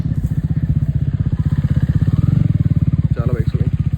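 Motorcycle engines idle at a KTM Adventure 390 launch event, a loud, rhythmic thumping exhaust pulse running close and steady, with a brief voice near the end.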